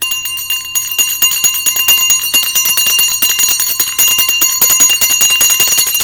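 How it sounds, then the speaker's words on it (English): A bell rings repeatedly in quick, steady strikes with bright metallic overtones, sustained and fairly loud throughout. "they're telling me to ring the bell again"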